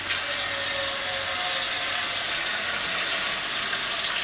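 Tap water running steadily while hand-dyed yarn is rinsed, a continuous loud hiss and splash with no breaks or voices.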